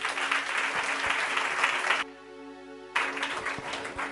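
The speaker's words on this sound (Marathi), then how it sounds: "जरा जोरदार टाळ्या प्रभूसाठी." A church congregation claps loudly and continuously for a couple of seconds, falls briefly quiet, then bursts into applause again.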